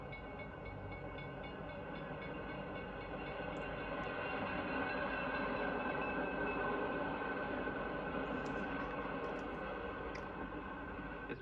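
Continuous rumble and clatter of a 1950s passenger train rolling along the tracks as it approaches a station, swelling slightly louder midway, with faint high squeals near the end.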